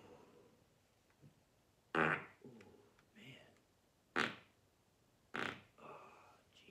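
Several loud farts burst out at irregular intervals during a casual hangout with a blunt, with quieter rumbling and voices in between.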